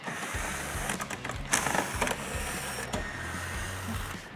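Fasteners being worked out of the underbody panels of a Corvette C8, with intermittent mechanical whirring bursts and clicks, like a powered driver spinning out 7mm screws at close range, repeated several times.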